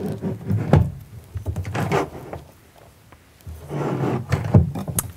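Soft-close drawers in a toy hauler fifth wheel trailer slide shut with muffled, gentle thuds and rumbles, a few quiet closing motions close by, with no talking.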